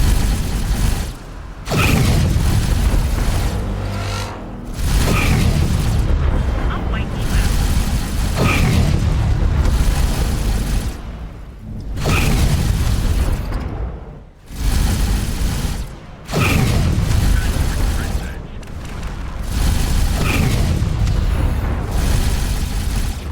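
Graviton cannon fire in the space game X4 Foundations, a series of loud booming blasts repeating every few seconds with brief gaps between shots.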